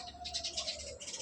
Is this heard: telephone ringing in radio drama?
no